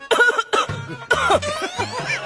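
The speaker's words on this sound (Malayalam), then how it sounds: "നീ ചുമക്കുന്ന കേൾപ്പിക്കാനാണോ എന്നെ" Several harsh coughs in quick succession, close and loud, with brief pauses between fits.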